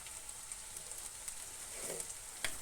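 Ingredients for a Kerala curry sautéing in hot oil give a steady, fairly quiet sizzle with a few brief stirring clicks and soft crackles, and no talking.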